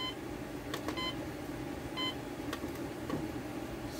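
An Emerson CKS2862 clock radio alarm beeps in short electronic tones, spaced groups of bleeps over a steady room hum, fairly faint and not yet loud.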